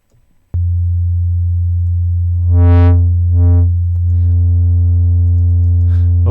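A steady sine tone from a Native Instruments Massive software synthesizer hums continuously, then gains bright buzzy overtones in two swelling bursts from a shaping effect before settling into a richer sustained drone.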